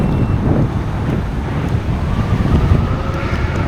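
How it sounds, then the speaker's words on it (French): Wind gusts through a forest, buffeting the microphone with a loud, rumbling, uneven roar that swells and eases without pause. "il y a encore un peu de vent là, tu vois, mais ça va, c'est supportable comparé à ce matin"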